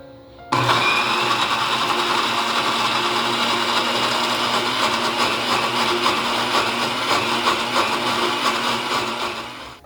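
A mixer grinder blending onion and tomato paste whirs loudly and continuously after a brief quiet start, a steady high-pitched motor drone that runs to the end.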